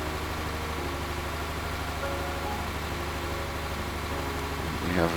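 A tractor engine in the zombie survival game Ravage Redux runs at a steady, close idle, a constant low rumbling drone with a brief rising sweep right at the end.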